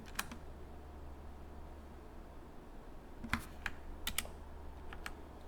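Scattered computer keyboard keypresses while working in Blender 3D modeling software, a few quiet clicks spaced irregularly, including a quick pair near the middle, over a steady low hum.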